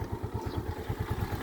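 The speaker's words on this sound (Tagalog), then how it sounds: "Napaka-smooth ng andar ng makina ni Sir o." A Honda TMX 125 Alpha motorcycle engine idles smoothly up close, a steady low thumping putter with an even, quick rhythm and no voices.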